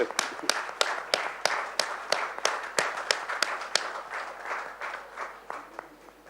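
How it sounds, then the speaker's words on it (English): Audience at a fire services bravery awards ceremony in a Chennai hotel ballroom claps, with sharp, evenly spaced claps standing out in a steady rhythm over a softer bed of scattered applause that gradually fades. "one more round of applause for Megha James"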